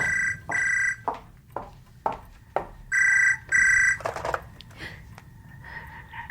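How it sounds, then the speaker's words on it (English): A telephone ringing indoors in bursts of warbling electronic tone, two pairs of rings with quiet gaps and soft knocks and movement between them. "I got up off the floor to answer the phone."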